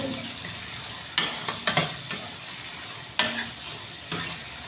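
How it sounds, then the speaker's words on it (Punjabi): Peas and tomatoes stir-fried in a pot for salted rice, a low steady sizzle close by punctuated by several sharp spatula clinks and scrapes against the metal, no speech. "ਇਹਨਾਂ ਆਪਾਂ ਚੰਗੀ ਤਰ੍ਹਾਂ ਭੁੰਨ ਲਾਂਗੇ ਜੀ"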